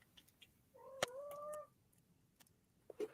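A cat lets out a single drawn-out meow near a bonfire gathering, fairly faint and distant, with a sharp crackle or snap amid quiet background noise.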